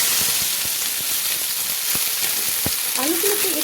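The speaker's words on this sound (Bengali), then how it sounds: "এবার আমি দিয়ে দিচ্ছি সেই ছোটো ছোটো টুকরো টুকরো আলুগুলো।" Small potato pieces fry in hot oil in a kadai with a loud, dense, continuous sizzle and occasional spatula knocks, close up, with a faint murmur near the end.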